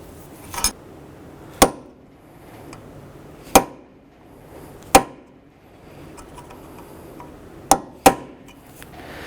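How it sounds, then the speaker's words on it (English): A hammer strikes a punch to stake the hub nut on a 2006–2011 Honda Civic wheel hub, six sharp metallic blows spaced irregularly over a quiet workshop background. "You want to take a punch. You want to go ahead and recess the nut in that particular spot there"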